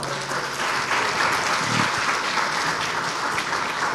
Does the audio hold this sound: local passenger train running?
no